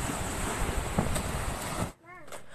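Sea waves rushing in a broad, windy wash that stops abruptly, leaving a short quieter stretch with a faint warbling tone.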